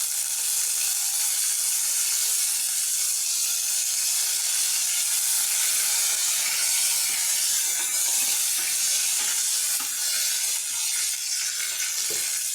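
Curry leaves hit hot frying oil while making a dried-fish curry, giving a loud, steady crackling sizzle with bursts of spitting that carries on alone for the whole stretch.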